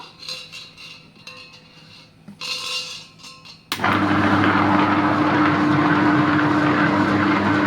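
A wet grinder holding water for cleaning is switched on partway through, cutting from quiet background into a loud, steady motor drone with a constant low hum and a rough grinding rush.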